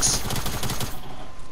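Rapid automatic gunfire in an online team shooter video game, a dense burst of close, sharp shots for about a second before fading into quiet background noise.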